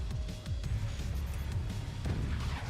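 Cannon shots in a video game sound as a series of dull low booms in a dense, rumbling battle mix, several thuds spaced through a continuous roar.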